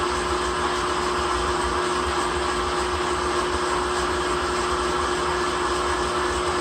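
Electric mixer whisk beating egg whites for meringue, a continuous loud whirring motor drone with a steady whine, close and unbroken throughout.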